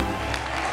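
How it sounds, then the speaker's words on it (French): Audience applause at a live TV show, a brief, dense, steady burst of many hands clapping together. "La mère, applaudissez pour la mère."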